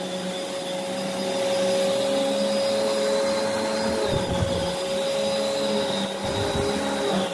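A Prolux X8 Elite backpack vacuum with the EBK360 attachment runs steadily and loudly, a continuous high whine over a low hum, with slight dips in tone as the head moves.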